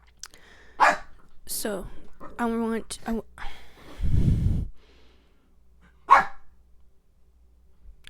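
Dogs bark and whine in short, scattered bursts indoors, mixed with a person talking and sighing nearby, followed by a low rumbling thud and one more sharp bark toward the end.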